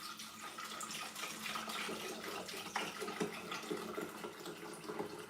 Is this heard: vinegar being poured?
yes